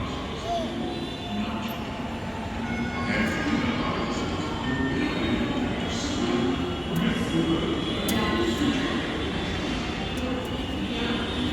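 Metro train ride heard from inside the carriage: a steady, loud broadband rumble of wheels and motors runs through the whole stretch, with occasional faint voices underneath.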